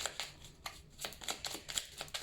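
Oracle cards shuffled close up in quick, soft riffling bursts, a rapid rhythmic series of papery flicks at low level.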